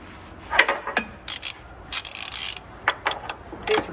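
A ratchet wrench tightening a nut on a custom Peterbilt truck's air ride suspension, with several quick bursts of metallic clicking separated by short pauses, close and fairly loud.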